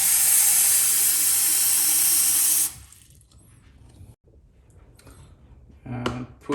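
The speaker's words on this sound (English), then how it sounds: "So I'm pouring some water." Water pours steadily into the reservoir of a Waterpik water flosser, a loud rushing stream that stops abruptly after a few seconds and leaves a quiet room with a couple of faint knocks.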